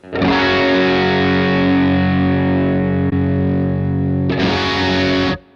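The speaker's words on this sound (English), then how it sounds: "you've got quite a lot more top end on the sonic distortion if you want it" Electric guitar driven through an Ibanez SD9 Sonic Distortion model in a Line 6 Helix, a loud sustained distorted chord ringing for several seconds, then a second bright strum near the end, played alone.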